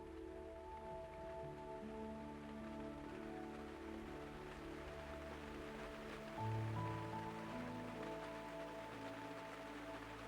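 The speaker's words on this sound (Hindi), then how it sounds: "बाहर हल्की बारिश शुरू हो गई।" Light rain falls outside at night, a faint, soft, steady patter under low sustained tones, with no voices.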